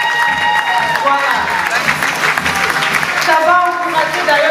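An audience at a gathering honouring women applauds, a sustained wash of clapping from a crowd, with a voice talking over it.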